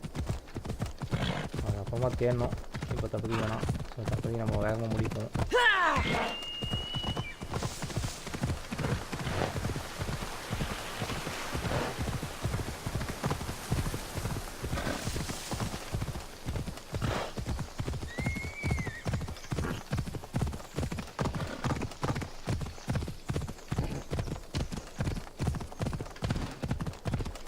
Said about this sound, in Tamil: அடடா குதிரை கிளம்புதுமே.